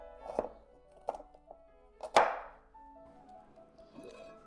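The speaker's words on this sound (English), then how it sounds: "I'm chopping the pieces of stem that were attached to the florets" A few sharp knife chops through broccoli stems on a cutting board, three or four spaced strokes, close and distinct in an otherwise quiet setting.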